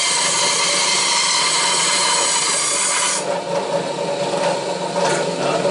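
A table band saw cuts through thick wood, a loud, continuous whine and rasp that holds steady close by, then shifts slightly in tone as the blade works deeper into the board.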